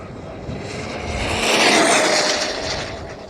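Fast RC car on 12S power at around 90% throttle, its electric motor whining in a loud, rising and falling rush as it passes close by, with no one talking.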